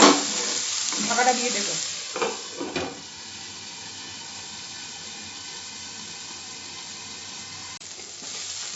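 Boiled masala egg fry cooking in a pan on medium flame, Andhra style, with a steady soft sizzle and hiss after a few stirring scrapes at the start; a voice speaks briefly near the beginning.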